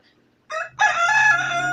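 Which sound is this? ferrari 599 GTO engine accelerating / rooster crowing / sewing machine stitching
rooster crowing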